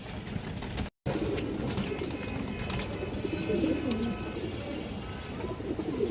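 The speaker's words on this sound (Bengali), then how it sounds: "খুব সুন্দর একটা কবুতর" Pigeons cooing among market birds for sale, soft low murmuring coos repeating steadily under a constant background hiss, fairly close and moderate in level.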